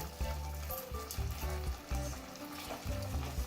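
Chicken gravy bubbling and sizzling in a pan on a medium flame while salt is stirred in, a steady close cooking hiss with soft repeated stirring sounds and no voices.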